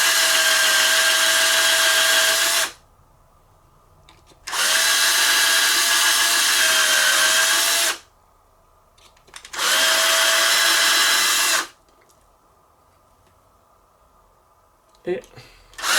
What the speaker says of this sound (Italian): mettete la punta del trapano, fate girare un po' di qua un po' di là